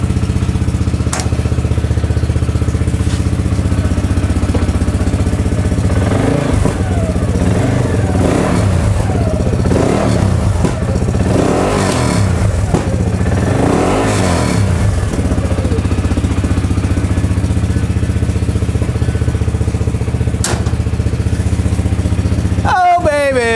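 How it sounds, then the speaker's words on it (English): A CFMOTO engine with a freshly rebuilt fuel pump idles and is revved repeatedly, loud and close, its pitch climbing and falling in several surges, with a clatter near the end. "Make sure she revs up fine."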